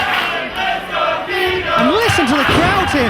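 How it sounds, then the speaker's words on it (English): Wrestling crowd at a Revolution Pro Wrestling show in Sittingbourne cheering and shouting loudly and continuously, with chanting voices rising toward the end. "The crowd is going wild here again."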